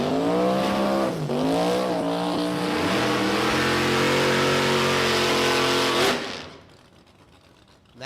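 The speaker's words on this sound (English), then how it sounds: "the one and only Kenny Hanna in the left lane, behind the wheel of his stunningly beautiful Wrong Ear Nova." A Chevrolet Nova drag race car on extreme small tires launches at a motorplex, its engine screaming loud and close through rising revs before cutting off sharply near the end.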